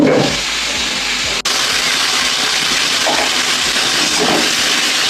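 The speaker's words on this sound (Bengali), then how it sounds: "তেলটা একটু বেশি করে দিয়েছি এই তেলে উচ্ছে ভাজা হয়ে যাবে ভালো করে তাহলে ভেজে দিই" Bitter gourd fries in a generous amount of hot oil, sending up a loud, continuous, even hiss with a single brief break and no talking.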